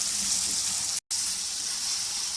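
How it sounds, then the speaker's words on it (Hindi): Spices and potatoes frying over medium heat for an egg and potato korma, giving a steady, close broadband sizzle that runs continuously apart from a brief cut to silence around the one-second mark. "अब हम इस मसालों को अच्छी तरह भून लेंगे आलूओं समेत। इसको हमने 3 से 4 मिनट के लिए भूनना है मीडियम आंच पर।"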